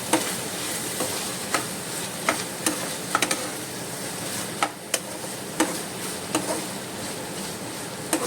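A rice mixture is stirred in a pan over a soft continuous sizzle, with regular light spoon taps and scrapes against the pan at close range and no talking.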